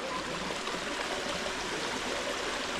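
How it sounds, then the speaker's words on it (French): Steady rushing of a small waterfall in Morocco, a continuous broadband splash of flowing water, fairly close and even throughout with no talking. "il y a la petite cascade qui passe là"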